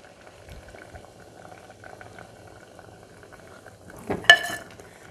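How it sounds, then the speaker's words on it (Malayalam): Banana stem pieces boil in salted water in a pot, a steady low bubbling and simmer running throughout, with a brief louder burst of bubbling or a lid clatter near the end. "ഇനി നന്നായിട്ട് തിളച്ച് ഒരു 10 മിനിറ്റ് വേവിക്കണം."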